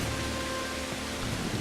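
Steady rain in Kingdom Come: Deliverance, a dense continuous hiss of falling water without breaks, alone and fairly loud.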